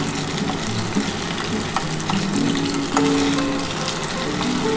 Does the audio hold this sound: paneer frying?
yes